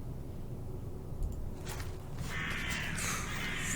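Crows cawing as ambient sound in the video game Deeper Sleep, a few harsh caws ringing out partway through over a constant low wind-like background, moderately distant, with no talking.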